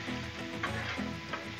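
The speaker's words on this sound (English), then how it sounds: "Let's stir our onion." Bacon and onions sizzle loudly on a Blackstone griddle while being stirred, a dense continuous crackle with faint scraping, heard up close with no talking.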